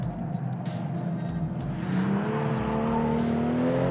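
2018 BMW M240i xDrive in Sport Plus mode with traction control off, driven hard through tight corners: a loud, close engine with rising revs under load and faint tire squeal, heard from inside the car, with no talk.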